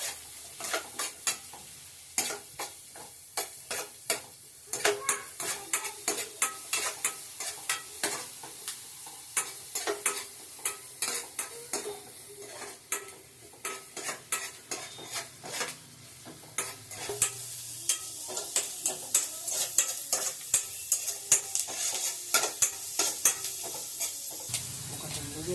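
Chillies fry in butter in a pan, a steady sizzle running under frequent sharp scrapes and clicks of a spoon stirring, the strokes growing busier and louder toward the end; no one talks.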